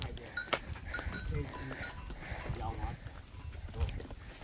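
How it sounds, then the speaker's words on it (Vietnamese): A herd of goats bleating on a farm in a remote Vietnamese border area, with scattered overlapping calls near and far under background chatter and movement. "Một đàn dê."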